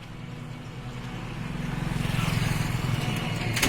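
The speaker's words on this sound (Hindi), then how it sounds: "ये रास्ता भी है ना, बहुत ही गाड़ी उड़ी आते रहता है।" Road traffic passes steadily with a continuous engine rumble that swells gradually louder toward the end, as vehicles approach along a busy road.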